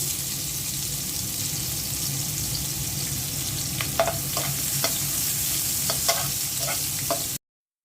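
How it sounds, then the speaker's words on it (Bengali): Onions sizzle in hot oil left from frying fish, with a continuous hiss, while a spatula scrapes and taps the pan in quick strokes toward the end. "মাছ ভাজা তেলের মধ্যেই পেঁয়াজ দিয়ে দিচ্ছি"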